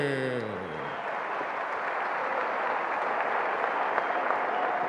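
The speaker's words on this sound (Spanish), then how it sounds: "Fuerte, fuerte, fuerte sus aplausos para Jesús" A boxing event crowd applauds a fighter's introduction, steady dense clapping and crowd noise throughout, with a brief voice or tone fading at the very start.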